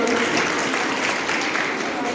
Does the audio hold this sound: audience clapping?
yes